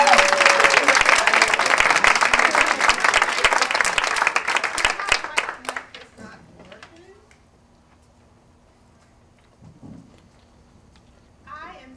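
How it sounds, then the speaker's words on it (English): Lecture audience applauding a renowned author at a campus Black cultural center, dense clapping that fades out after about five seconds into a quiet room with a few faint scattered sounds. "clapping."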